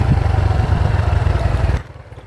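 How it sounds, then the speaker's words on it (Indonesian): A motorcycle engine runs with a throbbing low rumble and a buzzing rattle from a loose, vibrating mirror, then suddenly drops to a quieter idle near the end. "ada suara rada berisik karena spion motor gue emang kurang bener aja, jadi getar-getar terus"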